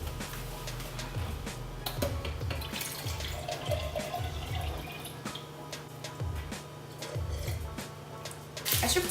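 Tap water runs steadily in a home kitchen while lemon bars are being baked, a continuous close splashing stream lasting throughout with faint clinks and no talk.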